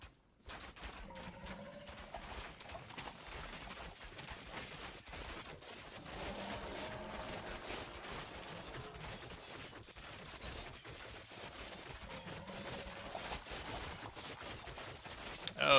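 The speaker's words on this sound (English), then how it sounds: "we have all these ballistas, and they should be hitting like tanks" Rapid, faint ballista volleys in the strategy game Thronefall patter continuously over a low battle ambience. The shots run steadily through the whole stretch, with no talking.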